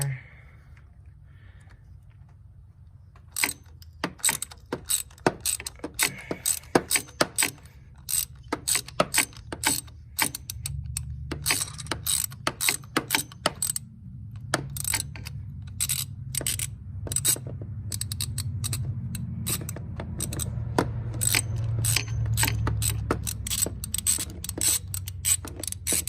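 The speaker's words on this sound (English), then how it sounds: "I have a 3/8 ratchet here with a little bit of an extension with a 16mm spark plug socket." A 3/8-inch ratchet with an extension and 16mm spark plug socket works the plugs on a 2005 Chevy Trailblazer, giving dense runs of close, sharp ratcheting clicks that come in rapid bursts with short pauses, over a low background hum.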